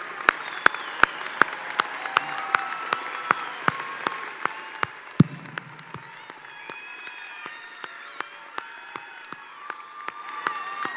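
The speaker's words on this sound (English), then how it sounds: "And let's give them another round of applause." Scattered, sparse clapping at a university spring commencement ceremony as graduates' families stand, individual sharp claps ringing out in a large hall, with a brief low thump midway and the clapping thinning out toward the end.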